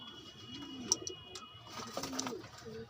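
Pigeons cooing softly at close range, with a few low throaty coos against a faint background hum and a couple of brief high chirps.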